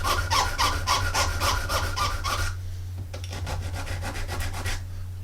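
Rhythmic back-and-forth sanding strokes on the edge of a Revell 1/48 Tornado plastic model part clamped in a vise, close and steady, pausing briefly midway before resuming, over a low constant hum.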